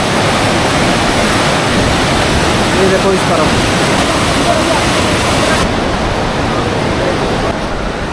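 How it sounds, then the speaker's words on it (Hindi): A river below the Manikaran hot springs rushes in a loud, continuous roar of churning water, and someone speaks briefly over it. "साउंड आ रहा होगा आपको नीचे नदी का"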